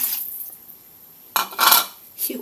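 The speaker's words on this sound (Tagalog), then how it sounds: "Maglagay tayo ng tubig kasama nung ating pinigana" Water is poured into a pan while cooking pancit canton with vegetables and shrimp heads, a short splashing pour rushing in bursts after a quiet stretch, fairly loud and close.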